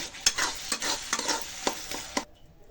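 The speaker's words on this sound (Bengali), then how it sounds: "এরপরে এইভাবে সিমটাকে চটকায় নিয়ে" Boiled flat beans being mashed and stirred in a pan, a run of soft scraping and squelching strokes in an irregular rhythm, close and fairly quiet, stopping abruptly near the end.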